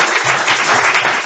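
A church congregation applauds in a short, dense burst of steady clapping that fills the whole moment, loud and close, with no pause in it.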